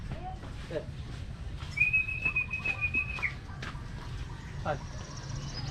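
Racing pigeons return home and flap their wings overhead, a soft fluttering with a clear sustained whistle in the middle, over steady outdoor background noise and faint voices.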